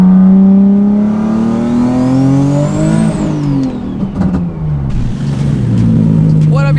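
A twin-turbo VR engine fitted in a Nissan Z coupe revs hard, its rising whine climbing to a peak and then falling away, with turbo whoosh and spool, loud and close throughout.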